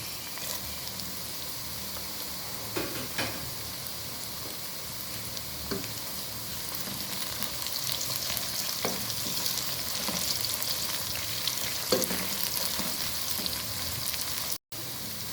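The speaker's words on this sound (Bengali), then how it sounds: "পেঁয়াজ হালকা ভাজা হয়ে গিয়েছে এখন দিয়ে দিচ্ছি গোটা গরম মশলা" Onions fry with whole garam masala in a pan for a beef and chana dal dish, a continuous close sizzle with occasional stirring clicks throughout and no talking.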